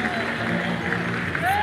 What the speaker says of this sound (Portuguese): Uma mão é pouco, levanta as duas e aplauda Jesus